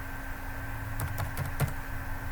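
A computer keyboard is typed on in a short burst of a few quick keystrokes over a steady background hum, close and fairly soft.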